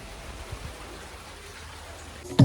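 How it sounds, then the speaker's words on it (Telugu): Steady, soft hiss of falling rain, fairly faint and even throughout, ending with a sudden louder knock. "వర్షం పడుతుంది చూపిస్తాను."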